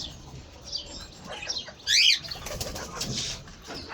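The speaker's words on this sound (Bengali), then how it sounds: "চলে আসলাম কবুতরের কাছে দেখো কবুতরগুলো কোথায় কোথায় আছে" Pigeons coo softly outdoors, with a brief flutter of wings and a few chirps mixed into light background noise.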